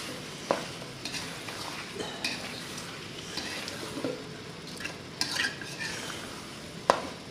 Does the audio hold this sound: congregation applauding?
no